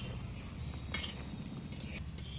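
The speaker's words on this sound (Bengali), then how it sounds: "দইটা মাংসের সাথে মিশিয়ে নেব।" Sour yogurt worked into mutton in a pot, a steady low stirring and gentle sizzling from close by, with a couple of faint spoon scrapes over the continuous cooking hiss.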